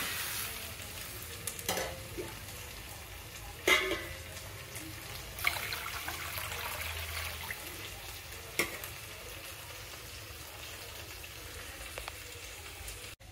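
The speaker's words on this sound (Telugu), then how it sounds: "రవ్వ ఉడకడానికి సరిపడా వాటర్ పోస్తున్నానండి" Water is poured into a hot pan of roasted semolina, giving a continuous soft sizzle and bubbling hiss with occasional sharp clinks, quiet and steady throughout with no talking.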